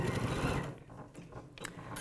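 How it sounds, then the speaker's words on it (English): Sewing machine stitching straight across the end of a bag, a close mechanical whirr that slows and eases into softer ticking and gear clatter. "So into the corner, needle down, and I'm going to sew straight across the end as well."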